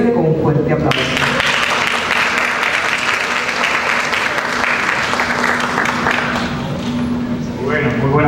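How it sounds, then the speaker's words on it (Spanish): An audience at a pre-congress academic event gives a speaker warm, sustained applause. Dense clapping that stays steady for about seven seconds follows a brief spoken line and some music, and a voice returns near the end. "vamos a recibirle con un fuerte aplauso"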